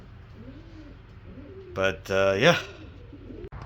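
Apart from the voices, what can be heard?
racing pigeons cooing at the loft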